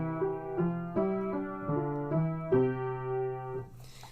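A keyboard plays a short melodic line at mezzo piano, moderately soft: about ten clear, evenly spaced notes rise and fall over a few seconds, close and solo with no talking, ending on a held note that fades.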